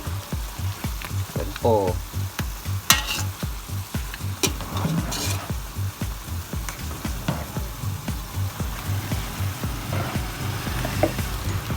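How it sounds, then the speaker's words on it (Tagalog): Pork feet and head with green chili frying and being stirred in a pan, a steady rhythmic series of spoon scrapes over a continuous sizzle, with brief speech at the start. "Haluin lang ng haluin ang ating paa at ulo."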